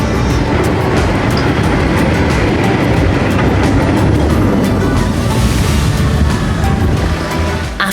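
A water-chute boat on a 1931 Charles Wicksteed ride, forerunner of the log flume, hits the water with a loud, sustained rushing splash and churning roar that stays steady throughout.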